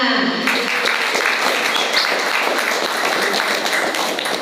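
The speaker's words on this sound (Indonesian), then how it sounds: "Sekali lagi tepuk tangan yang meriah buat mereka semua" An audience at a Ramadan iftar gathering with orphans and the underprivileged applauds a nasyid and hadroh music performance, with a thick, continuous wash of clapping throughout.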